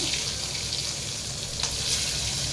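Dried fish (karuvadu) frying in a pan, a steady close hiss and sizzle of hot oil with light watery crackle, continuous and without talk.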